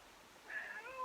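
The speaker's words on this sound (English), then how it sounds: "Do all of my cats need to make noise right now?" A house cat gives a single short meow, close and fairly quiet, rising briefly over a still room with no voices.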